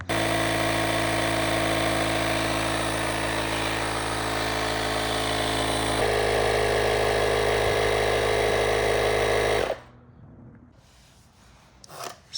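An Auxito A501 portable tire inflator compressor runs loudly and steadily with a dense mechanical buzz for about ten seconds, then cuts off, leaving quiet handling noise.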